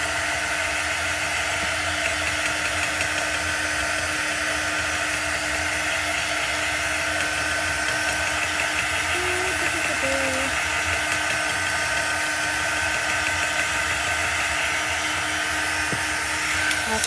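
A Chalk Couture Club Couture dry tool blows a steady, continuous whir of air throughout, loud and unbroken, with a faint voice briefly audible beneath it.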